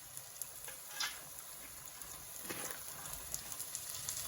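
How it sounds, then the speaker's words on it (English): Potatoes fry with spices in a pan, giving a soft, steady sizzle with faint crackles and a scrape or two of stirring, all at low level with no voices. "I'm going to add in the potatoes now"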